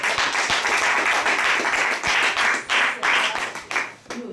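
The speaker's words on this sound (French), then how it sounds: "On acclame" A church congregation claps and applauds together in a steady, dense stream of hand claps that continues for a few seconds before trailing off at the end.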